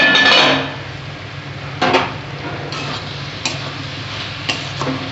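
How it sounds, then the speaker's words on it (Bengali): Lid lifted off a cooking pot of simmering banana-flower and shrimp curry, starting with a loud burst of sizzle and bubbling, then a metallic clank and a few lighter ticks of the lid over a steady low cooking hiss. "ঢাকাটা খুলে দেখি কত দূর কষানো হলো"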